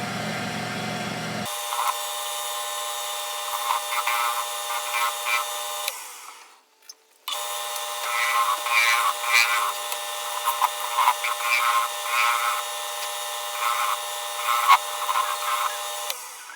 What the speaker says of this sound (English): I'm just going to round this end off